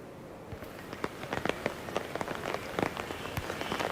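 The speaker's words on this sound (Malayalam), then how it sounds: "അതേസമയം ചെറിയ ചാറ്റൽ മഴ പരക്കെ ജില്ലയിൽ ലഭ്യമാകുന്നുമുണ്ട്" Light drizzle falling across the Pathanamthitta district, an even patter of raindrops on surfaces with scattered sharper drips, soft and moderately close, no voices.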